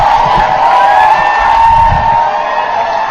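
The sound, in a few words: crowd cheering outside Cambridge City Hall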